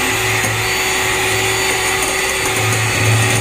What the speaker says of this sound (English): now we've whisked the butter and the sugar together